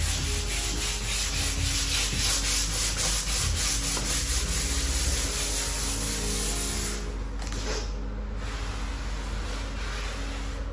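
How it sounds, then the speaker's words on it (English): Sandpaper rubbed by hand over cedar timber on a dining table, a steady close scratchy rasp of repeated strokes that continues almost without a break and eases slightly near the end. "you're just going to come back in with your sandpaper and gently sand that area a little bit more"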